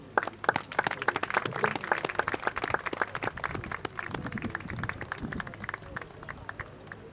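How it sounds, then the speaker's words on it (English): An audience claps steadily at a formal event in Kumasi, Ghana, after a CEO's closing speech: dense, sustained applause that continues for several seconds with a faint murmur of voices underneath. "One more time, a round of applause for Mr. Kwabena, CEO, Course Assets"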